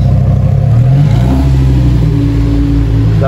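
A Lamborghini Huracan STO rolling through Monaco, engine revving and rising in pitch as it passes near, loud and continuous with a light mechanical clatter.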